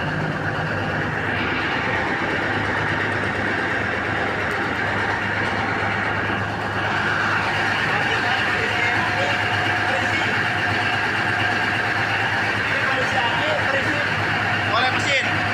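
A 500 kVA diesel generator set runs with a steady, even drone and a constant low hum for the whole stretch, while someone talks over it.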